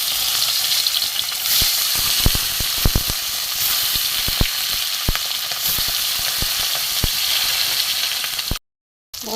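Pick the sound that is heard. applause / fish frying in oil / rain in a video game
fish frying in oil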